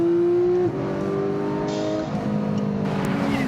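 A Porsche GT3 sports car engine revs hard and accelerates, its steady whine dipping at a gear change before climbing again, loud and close.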